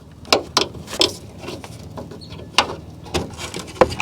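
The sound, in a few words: prying hood strut clip off with a pry bar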